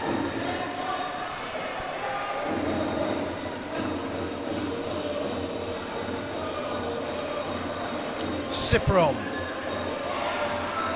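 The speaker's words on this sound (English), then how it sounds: "just listen to the reaction from the Thai crowd" A Thai home crowd at a wheelchair basketball game, Poland against Thailand, keeps up a loud, continuous roar with a brief sharp burst near the end, under a commentator's voice.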